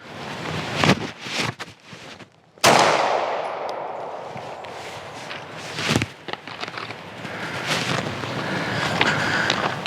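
A 9mm pistol loaded with Gorilla carry ammo fires at a bulletproof vest outdoors. One loud, sharp report rings out near the middle and decays slowly, with a few fainter knocks and shuffling around it.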